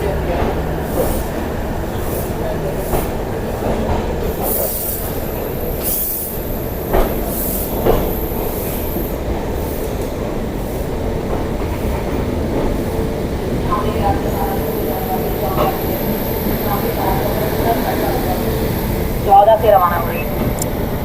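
An LHB-coached Mussoorie Express rolls through Delhi Junction, heard from inside the coach as a steady, continuous rumble of wheels and carriage noise with occasional knocks and brief higher squeaks.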